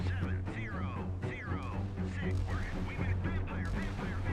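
Naval guns fire at incoming Exocet missiles and ships in a Falklands-era sea battle, with faint repeated booms beneath a voice narrating steadily over them.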